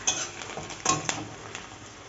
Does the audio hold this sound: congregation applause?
no